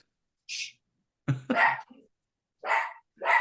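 A pet dog at home barks several times nearby, the sharp separate barks spaced irregularly with silent gaps between them.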